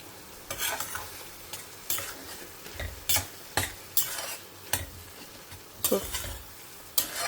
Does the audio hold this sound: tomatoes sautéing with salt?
yes